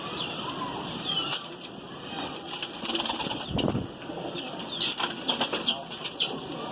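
A released pigeon flaps its wings in a few loud, close bursts, with soft cooing and bird calls behind and faint voices nearby.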